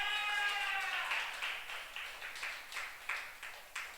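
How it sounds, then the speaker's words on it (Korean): A youth congregation at a church worship service claps together in a steady rhythmic beat, each clap a sharp burst, following a brief rise of voices at the start. "박수 한번 하겠습니다."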